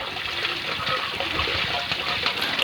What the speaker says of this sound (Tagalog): Napakalakas ng tubig sa gripo.